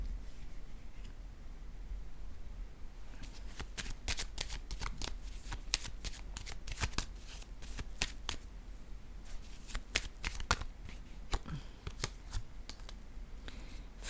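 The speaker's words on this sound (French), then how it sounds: "Je vais déposer une carte sur la peur directement." Tarot cards shuffled and dealt onto a table, a long run of crisp riffling clicks and sharp slaps in irregular bursts, close and clear over a low steady room hum, with no talking.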